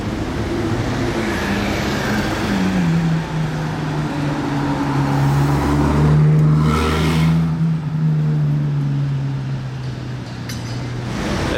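Ferrari 812 Competition driving past in Monaco, its engine note rising and shifting in pitch as it goes by, a loud, sustained drone peaking mid-pass amid street ambience.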